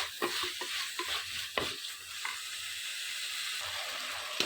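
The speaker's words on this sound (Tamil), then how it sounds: "தக்காளி போட்டு நல்லா வதக்கலாம்." Chopped tomatoes and curry leaves sauté in a pan for a mushroom kurma, giving a close, constant sizzle with frequent quick scraping stirs of a spoon; no voices.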